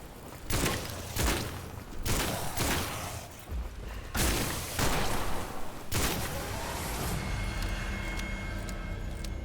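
Shotguns blast repeatedly in the first-person shooter Witchfire, a series of loud, punchy booms spaced a second or two apart, followed by a denser stretch of combat noise with ringing tones.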